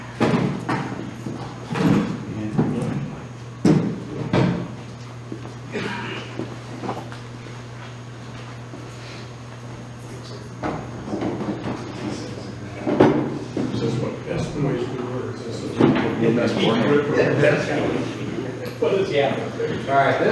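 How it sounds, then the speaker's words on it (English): A heavy green vintage door is moved and handled at a door clinic, giving scattered clunks, knocks and sliding scrapes under ongoing conversation. "Now we'll bring over the other door."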